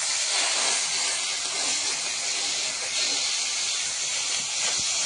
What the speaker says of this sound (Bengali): মাছটা দিয়ে দিয়েছি, আর একদম কড়াটা যখন খুব গরম হয়েছে তখনই দিয়েছি মাছটা